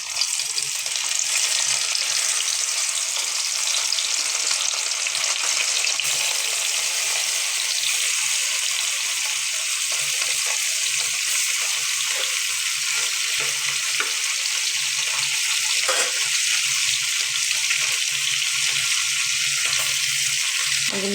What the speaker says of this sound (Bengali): তেল গরম হয়ে গেছে, মাছগুলো দিয়ে দিতেছি